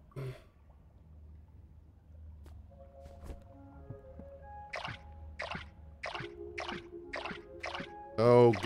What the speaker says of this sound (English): let's water them up.